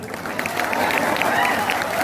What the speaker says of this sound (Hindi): बजा दीजिए ताली।